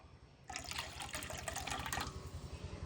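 Tamarind water is poured into a cooking pot in one quick, splashing stream that lasts about a second and a half, then stops, close by and fairly quiet.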